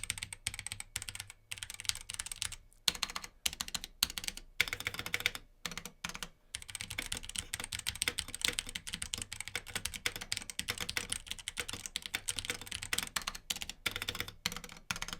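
Typing on a gaming keyboard fitted with Cherry Speed Silver linear switches: a steady, fairly quiet stream of close keystroke clacks in rapid bursts, broken by a few brief pauses.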